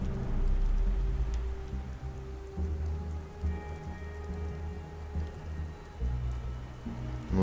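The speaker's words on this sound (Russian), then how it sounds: "чертов дождь. Он когда-нибудь перестанет идти?" Steady rain pours in the video game Beyond: Two Souls, a dense continuous hiss of drops on surfaces with low rumbling underneath, loud and close throughout without any voices.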